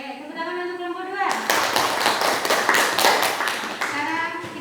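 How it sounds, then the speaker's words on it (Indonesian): A classroom claps for group 2, a burst of several seconds of close, uneven hand clapping from students, with a teacher's voice talking just before and as it ends. "tepuk tangan untuk kelompok 2"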